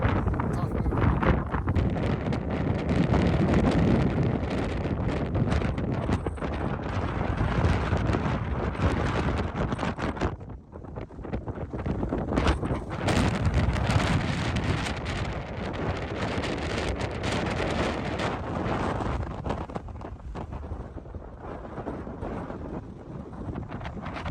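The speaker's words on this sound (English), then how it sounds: "the wind is blowing off everything, so it's just tough moving" Strong wind roars across the foggy summit of Mount Clay in the Presidential Range, heavy buffeting and gusting into the microphone almost without pause, dropping briefly midway before surging again.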